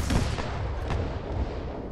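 Artillery gun firing in a WW2 Norwegian Campaign video game, a couple of muffled booms with rumbling tails over a dense noisy backdrop, with no talk.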